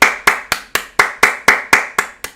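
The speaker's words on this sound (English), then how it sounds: "stop clapping so loud" Loud, close hand clapping in a steady rhythm, about nine sharp claps evenly spaced, with no talking.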